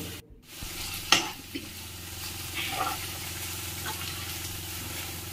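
Masala for egg roast frying in a pan with curry leaves added, giving a steady low sizzle under scraping stirs and a sharp clack near the start, with no one talking.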